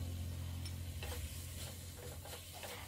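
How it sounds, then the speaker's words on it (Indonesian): Grated coconut is stirred in a pan as it cooks dry, giving faint intermittent scraping strokes over a soft, steady sizzle, with no talking. "masak hingga kelapanya kering"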